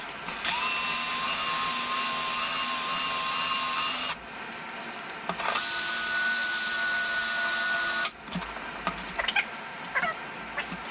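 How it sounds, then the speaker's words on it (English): A power drill spinning a small wooden piece against sandpaper while shaping fretboard parts: a loud, high whining hum in two long runs of about four and three seconds, separated by brief pauses with light handling noise. "I put it in the drill, right? Then I just spin it in some sandpaper to make it the right size."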